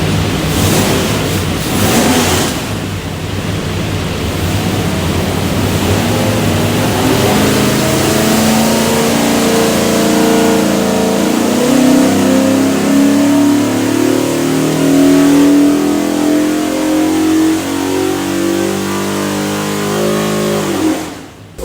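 A Holley EFI 347 stroker V8 built for a 1965 Mustang revs loudly on a dyno, a steady roaring pull that climbs in pitch over about twenty seconds before cutting off abruptly.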